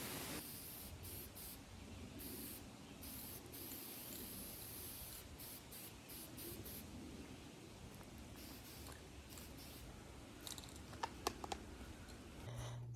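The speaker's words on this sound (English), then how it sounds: "give these a spray with some clear satin lacquer" Clear satin lacquer is sprayed from a can onto old lamps in a steady, faint hiss broken by short spurts, with a few small clicks near the end.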